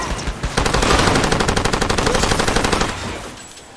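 Rapid automatic gunfire in the video game Far Cry 2, a loud sustained burst of evenly spaced shots hammering a car for several seconds before trailing off.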